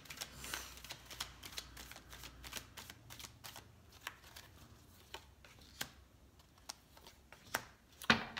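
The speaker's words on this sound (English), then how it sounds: "And I'm going to pull some clarifying cards." Tarot cards are shuffled and pulled in a quiet room, giving a series of soft flicks and riffles with sharper snaps, irregular and close.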